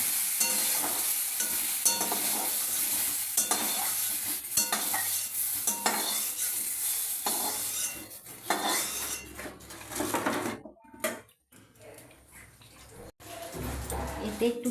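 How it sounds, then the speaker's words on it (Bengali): Potatoes fry in oil in a pan while a utensil stirs and scrapes, producing a bright sizzling hiss with repeated metallic clinks and scrapes, briefly dropping away near the end before the sizzle returns. "আলুগুলোকে একটু তেলের মধ্যে ভেজে সেগুলোকে তুলে নেওয়া হচ্ছে"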